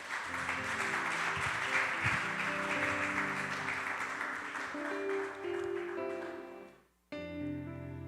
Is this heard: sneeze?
no